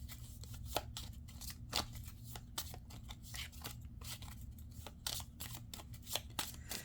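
A deck of astrology cards is shuffled and drawn, giving faint, crisp snaps and flicks that repeat in an uneven rhythm over a low, quiet background.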